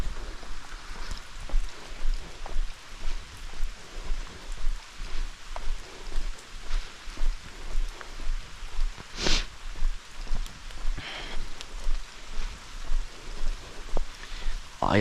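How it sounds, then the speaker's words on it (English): Hard rain falls outdoors along a public path beside backyards during an urban camping trip, a steady hissing patter with a rhythmic swishing pulse and a few louder splashes. "it's raining actually pretty hard."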